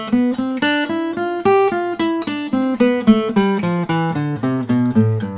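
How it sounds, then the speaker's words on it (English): A melodic instrument plays the Mixolydian mode, a major scale with a flattened seventh, for blues: a clear run of about sixteen evenly spaced, sustained notes stepping up and back down, loud and alone. "Now the Mixolydian mode sounds like this."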